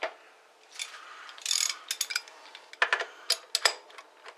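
A ratchet tightens a nut on a stud in a series of sharp, close metallic clicks, coming in quick uneven bursts with brief pauses between strokes.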